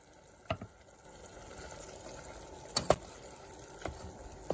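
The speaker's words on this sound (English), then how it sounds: "finally, we finish it off with some coconut milk" Coconut milk pours into a Sri Lankan okra curry, giving a quiet, close liquid trickle with a few sharp taps and clicks of a utensil or container scattered through it.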